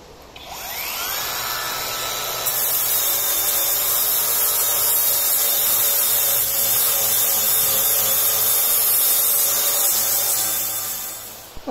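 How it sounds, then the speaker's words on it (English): A power tool grinds continuously against a narrowboat's steel hull in a dry dock, scraping off rusty scabs as a loud, steady whirring drone that starts up and winds down at the end. "I'm just kind of scraping the scabs off, if you like"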